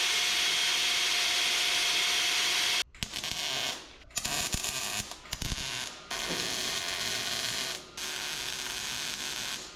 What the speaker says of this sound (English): Man, that drill bit gets after it.